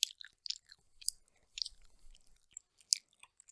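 Close, intimate mouth chewing for ASMR, made as wet crunchy bites and smacks in an irregular rhythm, heard alone in a quiet setting.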